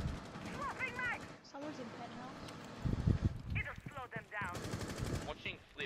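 Bursts of gunfire in the video game Rainbow Six Siege crack under players talking over each other, with rapid shots clustered in the middle of the stretch.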